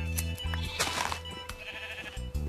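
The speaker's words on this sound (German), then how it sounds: "ist der Schaf gerade hinter mir groß geworden" Minecraft sheep bleat in short repeated, close, buzzy calls, several in a row with a couple near the end, while someone talks quietly in German in between.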